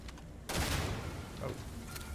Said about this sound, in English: First thing they did was start shooting at me.